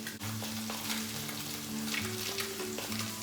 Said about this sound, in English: Just let it fry up in the shallow oil.